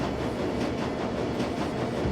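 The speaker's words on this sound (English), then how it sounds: "The train is speeding towards Kruz Bazaar station." Train speeding along rails in the video game Shadowrun Dragonfall, a steady dense rumbling roar with faint rhythmic pulsing, no voices.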